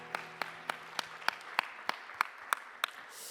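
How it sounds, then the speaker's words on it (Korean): Slow, evenly spaced claps ring out about ten times in a church youth worship service, a sparse rhythmic clapping heard faintly in a reverberant room without talk. "우리 박수로 서로의 삶을 응원하고 축복합시다."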